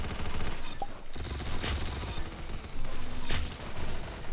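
Rapid gunfire crackles in Roblox Arsenal, a dense stream of shots with a few sharper cracks standing out over a constant noisy game background.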